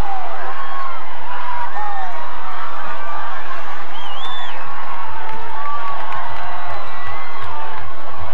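A stadium crowd roars and cheers after a touchdown for the Crimson and Gold football team, a dense, sustained wall of shouting and whoops lasting throughout.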